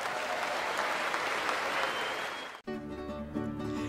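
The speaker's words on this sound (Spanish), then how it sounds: "Creo que merece otro aplauso más bonito" An audience applauds a performer with loud, steady clapping that cuts off abruptly, followed by cheering and murmuring from the crowd.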